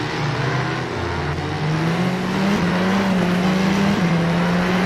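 A Formula 4 race car in a racing simulator at Croft, engine droning loudly and steadily with a rising, wavering pitch as the throttle is worked, continuous and close.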